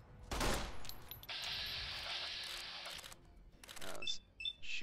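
Gunfire in Fallout New Vegas, a few sharp loud shots in quick succession near the start, followed by game effects and clicks with someone talking intermittently.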